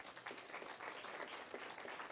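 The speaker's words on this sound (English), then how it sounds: "Round of applause." A studio audience at a talk show gives a short round of applause, a dense, even patter of many hands clapping, faint and somewhat distant throughout.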